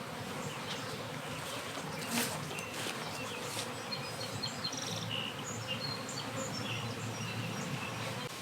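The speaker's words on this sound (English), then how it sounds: "There's really not many bees at all in here." Honey bees buzz around an old, nearly empty nuc box that still holds some leftover honey, in an outdoor beeyard. The buzzing is a steady, continuous hum of several bees at close to moderate distance, with no talking.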